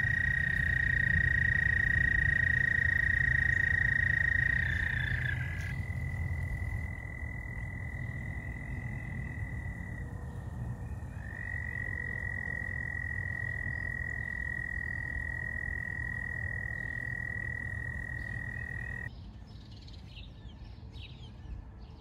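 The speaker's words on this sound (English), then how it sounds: "Got 2 mating frogs" Two mating frogs croak with a steady, sustained trilling call that holds for most of the time, close and clear, before dropping away near the end into faint background noise.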